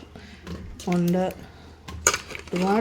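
Cleaned breadfruit going into a pressure cooker for payasam makes clinks and knocks of metal and utensils, with short bursts between, and a voice speaks close by.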